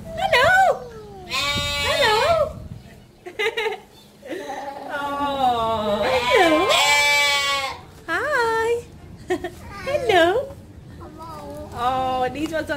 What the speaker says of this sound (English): all these lambs have just come through